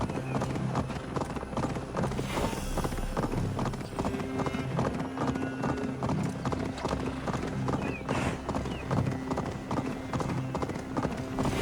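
Horse hooves clip-clop at a steady gallop in the Assassin's Creed Valhalla video game, rapid and continuous throughout, with an occasional whinny, wind and game ambience, and intermittent talking over it.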